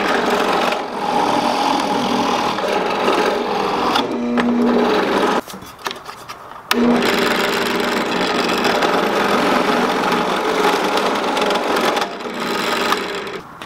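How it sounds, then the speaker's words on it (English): A power drill bores a hole through a wooden 4x4 post for threaded rod, a loud, steady whirring grind close by that drops out briefly mid-way, then resumes and runs on to the end. "First thing I'm going to do is drill out a hole so that this threaded rod can go through one of the 4x4s."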